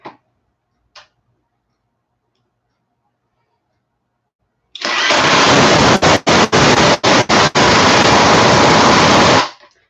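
A Kimo brushless impact driver running in setting 3, a loud, dense rattling hammer burst lasting about five seconds with a few brief stutters, after near silence.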